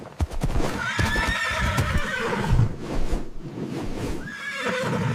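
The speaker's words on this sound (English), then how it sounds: "It's a horse." A horse neighs loudly and close by, a shrill rising whinny that repeats, with the clatter of hooves underneath and no talking.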